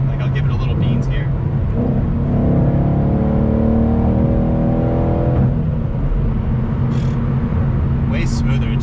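A manual Mustang GT 5.0 with a stock clutch accelerates from inside the cabin, its V8 drone climbing steadily in pitch before easing off, with people talking over the engine.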